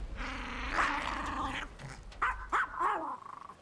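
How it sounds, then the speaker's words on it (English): A small dog growls low and steady, then lets out a few short yips and whines up close, the sounds rising and falling in pitch with no speech. "Tough name for a little dog."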